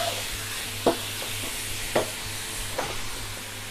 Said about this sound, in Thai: ผัดตับให้สุกเลยนะคะ